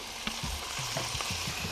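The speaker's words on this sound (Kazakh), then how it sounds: "Қуырамыз." Meat frying in a pan for a hot vegetable salad sizzles steadily, with several soft scrapes and stirring knocks of a utensil spaced through the short stretch, close up and with no talking.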